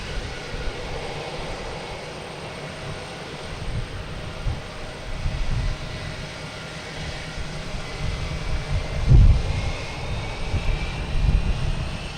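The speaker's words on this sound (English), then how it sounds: "Next is American Airlines coming in from Phoenix." An American Airlines Airbus A321neo arriving from Phoenix to land at Boston Logan roars steadily at a distance, its broad engine rumble mixed with gusty wind noise and growing slightly louder toward the end.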